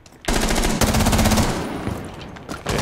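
Rapid automatic gunfire rattles in Rainbow Six Siege, a loud close burst of dense shots lasting over a second and then trailing off, with a brief second burst at the end.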